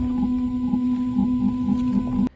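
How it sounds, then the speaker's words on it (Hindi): Odd startup noise from a Mahindra XEV 9E electric car: a steady tonal hum with a faint rhythmic pulsing beneath it, moderately quiet and near, cutting off abruptly near the end. "जब इसको ऑन ऑफ भी करते हैं कार को, उसमें भी एक ऑड सी आवाज़ है"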